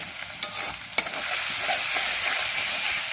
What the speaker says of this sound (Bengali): আর এই যে দেখো কষানো চলছে